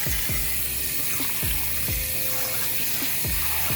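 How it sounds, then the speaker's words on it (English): Cold water runs steadily from a kitchen tap in a continuous broadband rush, with faint clinks and thumps beneath it. "I'm gonna put some cold water on it and just cover it with cold water."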